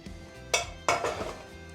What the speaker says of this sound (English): So just empty all of that goodness into this pan.